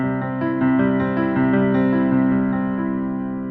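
A piano chord pattern played at a quicker pace with the sustain pedal held, notes running together into a smooth, sustained ring that fades at the end, close and with no talk.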